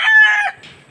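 Chicken clucking with a short crowing note, close and loud, in a home vegetable garden, over in about half a second followed by quiet.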